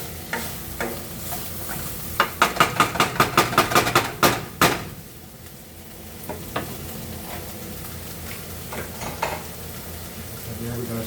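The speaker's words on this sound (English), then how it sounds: "Keep that moving around so that garlic don't burn." Garlic sizzles in a hot pan as it is stirred, a rapid series of sharp scraping clacks from a utensil against the pan over a soft steady fry, with sparse knocks afterward.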